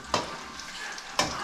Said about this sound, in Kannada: ಮೇರ್ನ ಸ್ಪೆಷಲ್ ಮೀನು ಫ್ರೈ ಆವೊಂದುಂಡು